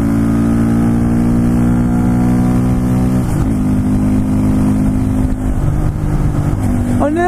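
A Honda MSX Grom 125 motorcycle fitted with an Akrapovic exhaust is ridden, its engine note loud and close, holding steady tones that shift pitch as it changes speed and climbs again at the end, with wind rushing over it.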